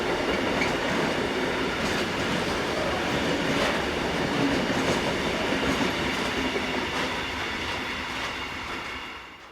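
Swiss Re 6/6 Class 620 electric locomotive no. 611, freshly overhauled, hauling a train at Mühlen: a steady, loud rolling roar with faint rail clatter that persists throughout and eases slightly at the end.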